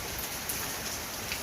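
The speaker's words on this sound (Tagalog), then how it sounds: "Malakas po ulan ngayon." Heavy rain pours down during a typhoon in a rural Filipino setting, a dense, steady, loud wash of drops with no voices.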